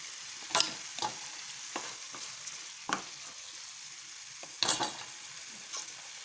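Ginger garlic paste and spices sauté in a pan, making a low sizzle punctuated by several distinct spatula scrapes and stirring bursts spaced a second or so apart, with no speech.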